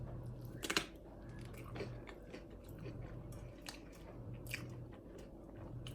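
Someone bites into and chews a piece of ground beef dish with onion, giving soft, moist chewing and crunching sounds close up, with one louder bite near the start and quieter mastication after.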